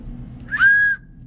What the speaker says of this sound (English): Yeah, so this is a whistle. This one's a whistle.